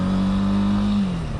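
A Honda CB300R motorcycle engine pulls at a steady droning pitch, then the note drops briefly as it shifts up a gear, loud and close with no talking.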